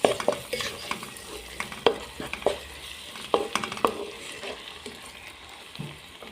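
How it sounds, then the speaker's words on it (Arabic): Spices frying in a pan for a traditional Algerian chicken and chard dolma dish, a soft continuous sizzle broken by repeated scraping and stirring strokes of a spoon, heard up close with no talk. "نزيد نحط هذوك التوابل اللي ذكرتهم، نخلوه يتقلى مع بعض"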